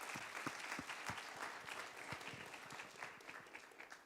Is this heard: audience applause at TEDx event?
yes